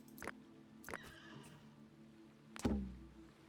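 Horses in the prehistoric survival game Dawn of Man give short whinnies, two sharp calls early on and a louder, lower neigh near the end, over a faint game ambience.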